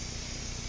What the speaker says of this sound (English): We're going to slowly turn the tire while spraying the chain lube into the chain itself.